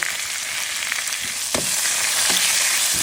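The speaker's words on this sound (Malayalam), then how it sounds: "കറിവേപ്പില ഇട്ട് എണ്ണയിലിട്ടിട്ട് വാട്ടിക്കൊണ്ട് എടുക്കണം" Curry leaves, fenugreek and garlic sauté in hot oil for a village-style fish curry, giving a steady loud sizzle with scattered sharp crackles and a brief stirring clatter midway; no one speaks.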